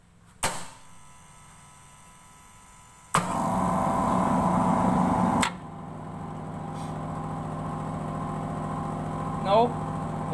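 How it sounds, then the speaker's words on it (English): Electric motor running on a two-phase supply through a phase converter panel, a steady mid-pitched hum that switches on partway through and holds on. A loud tone comes before it, and a voice is briefly heard near the end. "Now the motor is running in two-phase supply."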